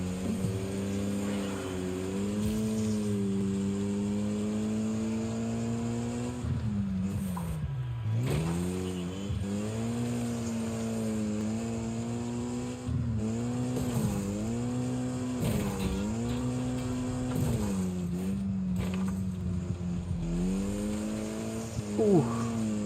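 Cars in the racing game Wreckfest roar along in a steady, loud engine drone, revving up and down repeatedly with tire squeals over a continuous racing din.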